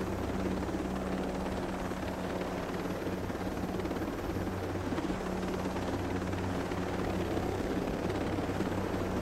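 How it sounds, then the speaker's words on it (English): Drones fly overhead in the Ghost Recon Breakpoint video game, giving a steady, loud whirring rotor hum that holds constant throughout with no speech. "There goes the drones."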